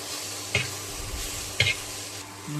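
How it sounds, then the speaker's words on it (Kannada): Paneer coated in masala frying on a griddle, a steady low sizzle with two sharp stirring or scraping clicks, close and alone without talk. "ಹೆಂಚಿನ ಮೇಲೆ ಫ್ರೈ ಮಾಡ್ಕೊಬೇಕು."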